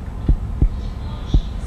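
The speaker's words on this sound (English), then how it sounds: "Why they got a heartbeat?" Heartbeat sound effect in a music video: four deep, thudding low pulses at an uneven, slow pace over a soft steady hum, close and fairly loud with no talk.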